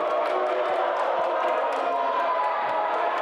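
Basketball crowd at a women's college semifinal between KC Giants and Notre Dame MD, voicing loud, steady, dense disapproval after a backcourt violation call, a continuous roar of jeers with voices mixed in.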